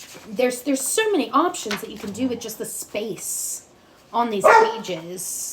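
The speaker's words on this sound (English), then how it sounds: "Sorry for my dog." A pet dog barks and yips in short repeated bursts close to the microphone, layered over a person talking steadily.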